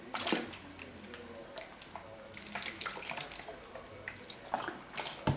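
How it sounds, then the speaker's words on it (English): Water splashes and trickles onto wool fibers being worked into felt by hand, a close, continuous wet patter with scattered drips and soft squelches. "just add a little bit more water."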